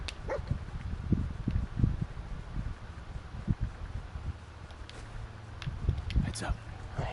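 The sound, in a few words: dog barking, Dogmeat in video game Fallout 4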